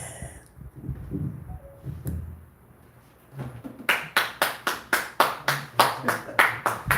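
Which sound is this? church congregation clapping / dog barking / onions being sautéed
church congregation clapping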